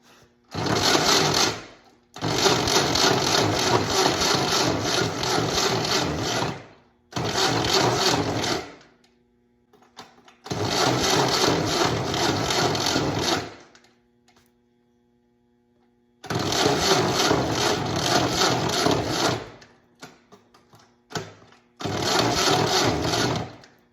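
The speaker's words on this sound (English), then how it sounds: "that starter sounds horrible." Starter motor cranking a WWII Jeep engine in rough condition, loud harsh grinding whir in six repeated bursts of one to five seconds separated by short silences, heard alone at close range.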